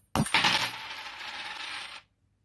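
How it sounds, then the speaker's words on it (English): A coin scrapes hard across a Rhino Shield screen protector on a Google Pixel XL, making a close, gritty rasp that starts abruptly and runs steadily for about two seconds before stopping dead. "it's now time for some standard coin and scratching test"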